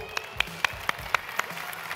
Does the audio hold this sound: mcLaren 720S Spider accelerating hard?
no